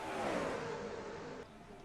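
A stock car in a racing video game roars past with a loud, rising whine that fades as it moves away, with no other sounds over it.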